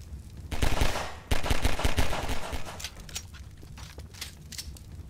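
Gunshots in the video game Clock Blockers, a burst of rapid automatic fire up close followed by scattered single shots that fade out.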